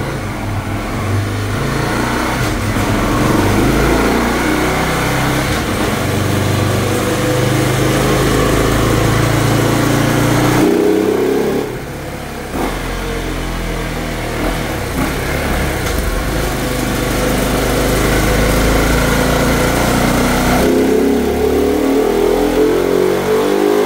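A loud Honda CB 300 motorcycle engine with a remapped ECU revs hard and holds high, drops off briefly, then climbs again into another sustained, roaring rev, close by.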